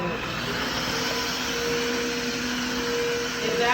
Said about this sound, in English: It vacuums and mops and it dries instantly.